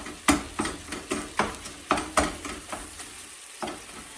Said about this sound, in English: So I've continued to chop through this, the hamburger, until all the pink has been cooked off.